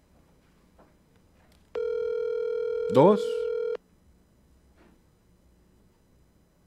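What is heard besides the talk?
telephone dial tone and DTMF dialing on radio call-in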